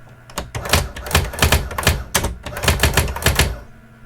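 A Brother WP-680 electronic word processor typing a short line, its daisy-wheel strikes clattering in quick irregular bursts of close, loud clacks with brief pauses between words.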